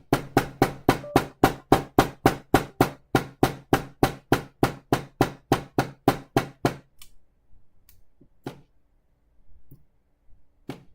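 Metal jewelry piece struck by a hammer in a steady run of about twenty-five sharp, evenly spaced ringing blows, close and loud, then stopping and leaving only a few faint clinks and handling noises.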